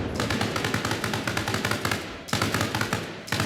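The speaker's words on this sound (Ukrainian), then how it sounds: "Абрамс сейчас постріляє." Rapid bursts of heavy gunfire from an Abrams tank in the video game Arma Reforger, loud, close and sustained, with a short pause before the firing resumes.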